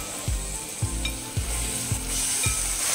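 One kilo of mutton sizzles in a pan with fried ginger and garlic, a steady frying hiss broken by rhythmic scraping strokes of a spoon stirring the meat, close and moderately loud.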